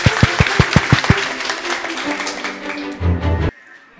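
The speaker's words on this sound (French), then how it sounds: "On applaudit." An audience at a student debate bursts into a short round of applause, with a few sharp claps at first that blur into dense clapping and then stop abruptly.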